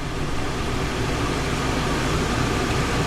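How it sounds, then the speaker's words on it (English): A steady broadband whoosh of an air conditioner running loud and close, constant with no pauses. "Maybe now you know why you hear the air conditioner running."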